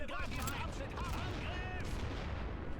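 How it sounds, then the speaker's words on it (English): Mortar and artillery fire in the World War I trench-warfare game The Great War: Western Front, a dense run of booming blasts and rattling gunfire with no gaps, mixed with voices under the barrage. "Oh, they got mortars."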